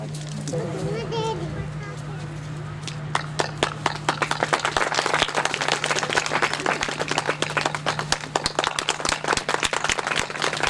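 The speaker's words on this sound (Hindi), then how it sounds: "सभी लोग तालियां सही दिल से बजाएं" An audience at a cultural event welcoming a legislator breaks into applause. A voice speaks over a steady hum at first, then many sharp, dense claps build and continue steadily for several seconds.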